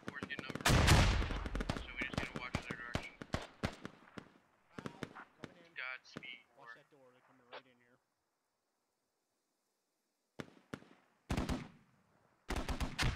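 Gunfire in the military shooter Squad, with dense rapid shots and bursts that thin into scattered single cracks, then a quiet stretch and a few more shots, alongside some radio-like voices.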